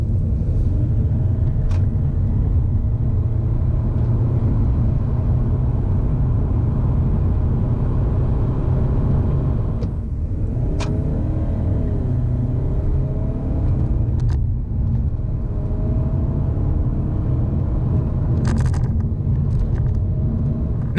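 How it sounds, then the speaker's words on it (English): A 2016 Audi A5 2.0 TDI diesel with a CVT gearbox pulls hard through a 30 to 70 mph sprint. The engine drone is steady and loud from inside the cabin, with rising tonal sweeps and no talking. "let's see what this thing does on the 30 to 70 sprint then,"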